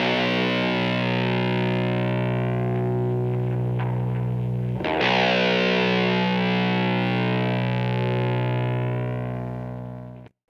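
Distorted baritone guitar tuned for drop tunings, strummed chords ringing out loud and sustained through effects, with a brief scrape near the middle before the sound fades at the end.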